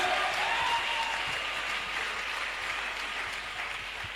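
A church congregation claps together in steady, dense applause, loud and sustained throughout with no talk over it.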